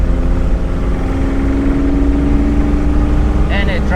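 An Alfa Romeo 1750 GTV runs on the road with a steady, loud engine drone and wind rush throughout. A brief higher tonal sweep appears near the end.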